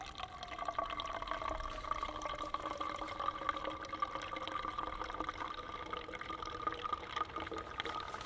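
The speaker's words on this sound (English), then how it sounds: "It's actually foaming already as I pour this in." Homemade green liquid soap, still warm and foaming, poured from close up into a plastic bottle as a steady trickling stream with a rising filling tone.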